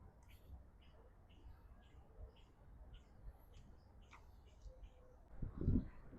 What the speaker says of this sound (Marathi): छान पक्ष्यांचा किलबिलाटाचा आवाज येतोय.